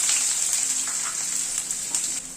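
Sliced onion sizzles in hot oil with panch phoron and dried red chilli, a steady bright hiss with faint crackles that stays close and continuous throughout, with no voices.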